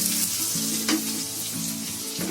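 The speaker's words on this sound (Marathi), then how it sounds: "तर गाजर थोडा मी फ्राय करून घेते." Carrots frying in a pan, a steady broadband sizzle with soft stirring taps and a low background hum, continuous and close throughout.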